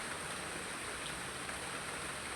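Rain from Storm Bualoi pours steadily all day, a continuous even hiss of falling water with no pauses or voices.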